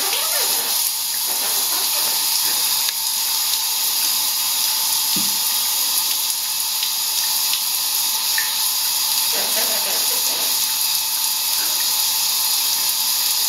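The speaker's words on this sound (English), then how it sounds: "Are you having a nice shower?" Shower water running steadily while a dog is bathed, a constant loud hissing spray throughout, with someone talking over it.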